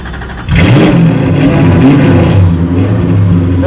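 Toyota KE70 with a 1UZ V8 engine starting up, catching after a brief crank and then revving loudly and steadily up close, a deep, continuous engine roar that fills the whole stretch.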